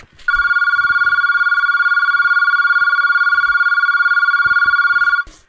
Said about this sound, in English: Wow, that was a really long ring.